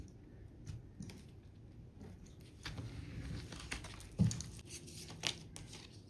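Tarot cards being shuffled and handled up close, with quiet rustles, flicks and soft taps coming in irregular bursts, faint and without talk.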